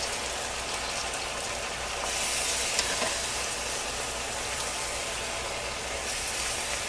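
Fried pig's tails hit a pan of sauce and sizzle loudly and continuously, a dense crackling hiss that holds steady for several seconds with no talking.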